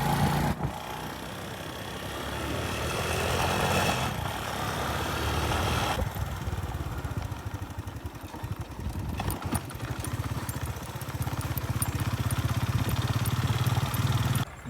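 A motorcycle engine runs steadily while riding toward a farmhouse, a continuous rumbling drone with shifting loudness, clatter and a few sharp knocks, no talking.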